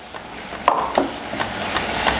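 Onions and a tomato-cashew paste frying in a pan, a steady loud sizzle with a few soft scraping stirs of a spoon, close up and without talk.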